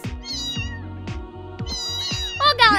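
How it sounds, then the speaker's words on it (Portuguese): Cartoon cats meowing in the mobile video game Super Bear Adventure, several short, clear meows repeating every half second or so, close and loud, with game music underneath and no talking. "eu acho que esses gatos aqui não sabem falar não, hein? Porque eles só estão miando."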